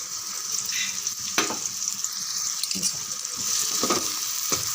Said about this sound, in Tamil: வெங்காயம் பாதி அளவுக்கு வதங்கினா போதும்.